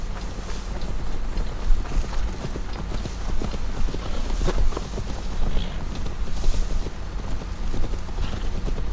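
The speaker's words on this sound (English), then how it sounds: "Now to deliver Magni his horse" A horse trots in Assassin's Creed Valhalla, its hooves clip-clopping in a steady, close rhythm for the whole stretch over faint wind, with no talking.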